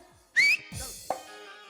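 A single short, loud referee whistle blast during a kabaddi game in a comedy sketch, followed by fainter voices and background sounds.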